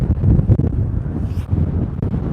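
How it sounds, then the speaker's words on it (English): Strong gusts of northwest wind buffet the microphone outdoors at SpaceX Starbase in Boca Chica, Texas, producing a continuous loud low rumble that surges and eases throughout. "we're getting some strong gusts of wind right now"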